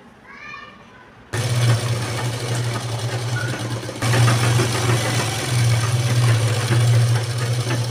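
A sewing machine stitches the lining into a blouse with a steady, close motor hum that starts after a quiet moment with a brief voice, then runs on continuously and grows a little louder partway through.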